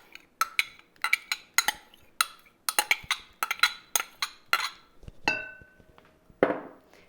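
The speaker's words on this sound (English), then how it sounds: "I like to scrape it with a spoon just to make sure all that butter is out" A metal spoon scrapes melted butter out of a bowl with a run of sharp, close clinks and taps in quick rhythm, ending in a ringing tone and a few scrapes, with no talk.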